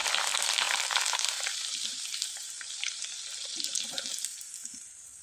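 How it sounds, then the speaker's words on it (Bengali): Flour pitha fries in hot oil, a steady bright sizzle with crackling bursts throughout as the dough puffs up, close and continuous with no talking. "এবার আমি এখান থেকে কিছুটা নিয়ে ভেজে আপনাদের দেখিয়ে দিচ্ছি।"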